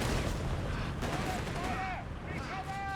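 Autocannon and machine gun fire from the Company of Heroes 3 strategy game crackle in rapid bursts beneath a caster talking over the battle.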